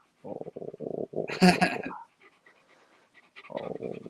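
A dog panting in quick, close rhythmic bursts, with a person's voice talking briefly between the bursts and again near the end.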